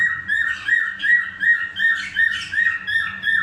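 A caged pet bird chirps and squawks close by in a rapid, steady series of sharp, repeated whistled calls that run without pause, loud and alone with no talking.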